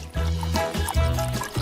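Cooking oil pours from a freshly opened bottle into a pan before frozen fries go in, giving a close, continuous glugging trickle with bubbly surges.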